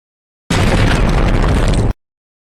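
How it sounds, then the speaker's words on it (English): A loud cartoon bomb blast tears apart a spaceship, one sustained roaring explosion of about a second and a half that starts abruptly and cuts off sharply, with no voices. "the bombs might have destroyed your ship"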